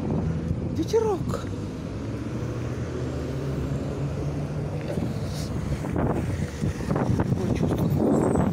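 Wind blows steadily outdoors, buffeting the microphone in a continuous rushing roar with a few louder gusts and faint thumps underneath.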